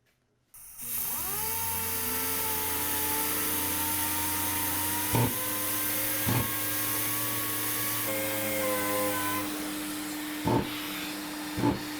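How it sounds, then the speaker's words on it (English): A shop vacuum runs steadily, rising in pitch as it spins up, punctuated by several short, sharp chugging bursts as the motor pulses to purge its filter. "I heard the vacuum make some noise, like a chugging noise"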